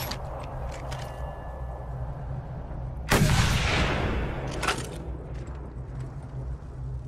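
A single heavy gunshot blast from the enemy Big Shot in the video game Mad Max erupts midway over a steady engine-like rumble, its boom decaying over about a second, with a smaller crack following shortly after.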